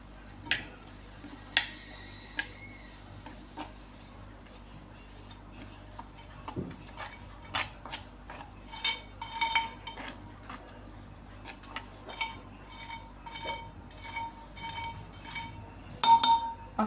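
Semolina mixed with cardamom powder in a bowl for sanjori filling: sparse light clinks and ticks of a spoon against the bowl, scattered taps coming in small clusters, quiet and close with a faint background hum.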